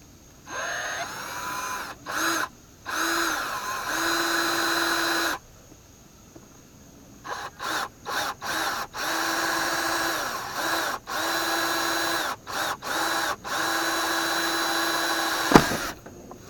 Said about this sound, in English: So let's go ahead and get the drilling